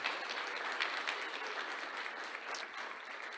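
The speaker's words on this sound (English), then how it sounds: "let's give Demetria a round of applause," A crowd applauds a performer named Demetria at an evening community event, dense steady clapping that stays even and fairly loud for the whole stretch.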